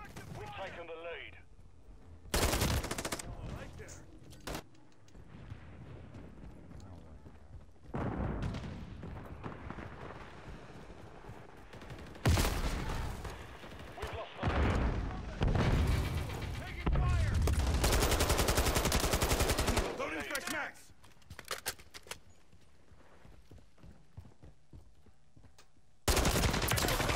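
Gunfire in a video game rings out in repeated loud bursts and sustained volleys, with rapid shots crowding together between quieter gaps, mixed with other game noise.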